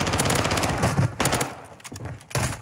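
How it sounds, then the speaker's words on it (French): Video game gunfire aimed at the player, heard as rapid bursts of automatic shots in quick succession, loud and close, with short gaps between volleys. "Ça me tire dessus à cause de toi"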